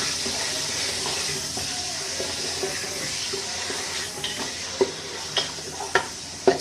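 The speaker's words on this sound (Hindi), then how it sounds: "अब इसके अंदर मैं ये चिकन को फ्राई करूँगी।" Chicken frying in hot oil inside a pressure cooker gives a steady, close sizzle, with a few louder spatters and scrapes breaking through toward the end.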